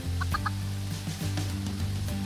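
Minecraft chicken clucking in the video game, a quick pair of short cluck calls near the start, then the steady game music and background sounds carry on without any voices.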